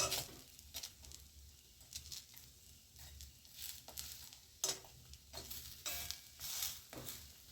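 Drumstick flower fritters frying in a pan after being flipped, a faint, soft sizzle broken by occasional louder bursts of spatula scraping and stirring.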